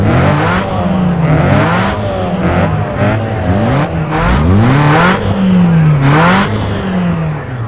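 Several car engines rev and rise in pitch before a street race in the video game GTA San Andreas, loud overlapping vroom sweeps and surges up close, with brief gaps between bursts and no speech.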